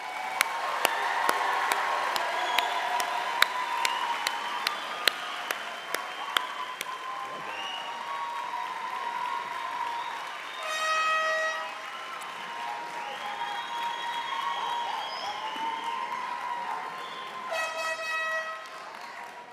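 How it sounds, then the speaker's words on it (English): An audience at a youth academy commencement applauds graduating cadets with sustained, dense clapping that carries on for many seconds, broken by two bursts of blaring horn toots and a short rise of crowd cheering. "Can we get a round of applause for the cadets,"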